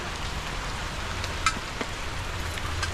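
Steady rain falls in an even wash of hiss with scattered drop taps, continuous and fairly close, with no voices over it.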